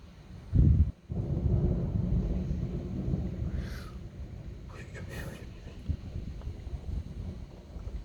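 Thunder during a strong thunderstorm in Alsace: a short heavy crack followed by a long low rumble, with steady wind and rain noise buffeting outdoors.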